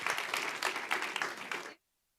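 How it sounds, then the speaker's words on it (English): An audience at a bookstore author event claps in a dense, lively round of applause that continues for under two seconds and then stops abruptly into silence. "Big round of applause for you."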